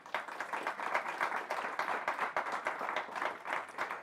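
Conference audience applauding a panel on fertiliser industry policy, steady moderately distant clapping from a room of people, continuous for four seconds with no talk.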